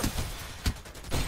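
Gunfire rings out in Farlight 84, a few sharp shots spaced across a second or so, moderately loud over steady game background noise.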